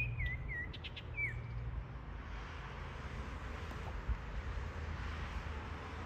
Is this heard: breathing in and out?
no